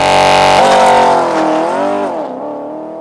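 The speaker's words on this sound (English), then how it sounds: "Hit the Sport Plus button, left foot on the brake, right foot on the gas, and there's your launch control." A Porsche in Sport Plus mode launches hard under launch control, its engine roaring loudly and close with a steady harmonic howl that sweeps up and down through the gears before easing back as it pulls away.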